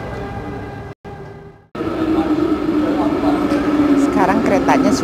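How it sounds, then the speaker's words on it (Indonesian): A train pulls into a station in Switzerland, a rising rumble with squealing wheel and brake tones building after a brief silent break, while voices speak over it. "Sekarang keretanya sudah datang."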